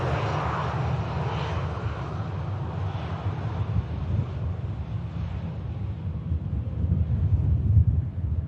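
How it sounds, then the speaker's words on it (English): An EasyJet airliner arriving from Malaga lands at Manchester Airport, its engines making a broad, distant roar mixed with gusty wind noise, steady and swelling slightly toward the end. "Here is the Malaga inbound EasyJet."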